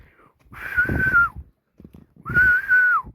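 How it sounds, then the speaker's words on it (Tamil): A person whistles two sustained, slightly wavering notes with an airy, breathy quality, close and fairly loud, separated by a short pause with some breath noise in between. "இந்த விசில் தான் அடிக்க தெரியும்"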